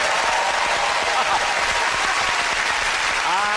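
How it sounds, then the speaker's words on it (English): Dense, steady applause from a television studio audience on a comedy panel show, filling the whole stretch evenly and loudly, with a faint voice rising near the end. "So I'm sure you'll be cheering her on tonight"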